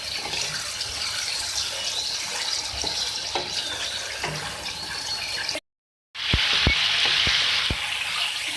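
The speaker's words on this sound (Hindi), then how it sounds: "फ्राई हो रही है चिकन हमारी ऑयल के अंदर।" Chicken fries in oil in a karahi with a loud, continuous sizzle and crackle. After a brief silent cut, sharp clinks of utensils against the pan sound over the frying.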